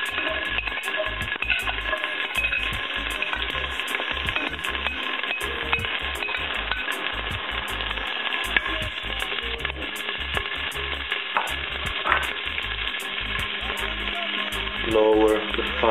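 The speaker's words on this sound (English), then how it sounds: "Now on a medium to high fire we add carrots, celery and parsley chopped in small pieces." Chopped carrots, celery and parsley fry in oil in a pot over a medium-high flame, giving a steady, dense sizzle with faint stirring clicks throughout, close and continuous.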